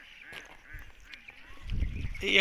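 Ducks honk and quack on a village pond over a murmur of background noise, with a louder low rumble of water or movement building toward the end.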